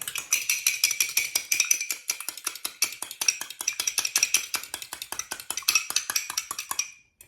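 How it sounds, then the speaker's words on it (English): Two eggs are whisked in a bowl: a fast, steady run of sharp clicks as the whisk strikes the bowl, close and even, continuing for about seven seconds before stopping, with no talking. "So I'll break 2 eggs. Give them a little whisk."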